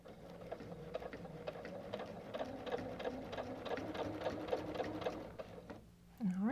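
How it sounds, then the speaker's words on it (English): A sewing machine runs steadily, stitching a quilt during machine quilting, with a rapid even mechanical rhythm that stops near the end, followed by a brief shuffling sound. "I can start sewing again."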